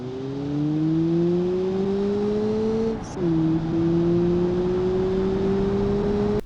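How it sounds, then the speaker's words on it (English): Stock car engine in the BeamNG driving game, a bland steady drone with a smooth rising tone that holds, dips briefly around a gear change, then climbs again, loud and continuous with no talk. "Are you tired of your car sounding boring and bland like this?"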